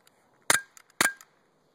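Two sharp, loud cracks from a RAP17 EX CO2-powered pistol, about half a second apart, each with a short mechanical rattle trailing after, in a quiet indoor space.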